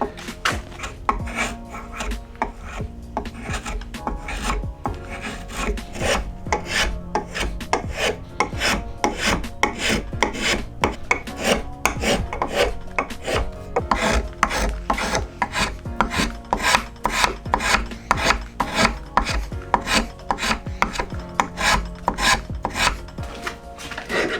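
Steady rasping strokes of a file on a wooden hammer handle, repeated rhythmically and close up, with no talking.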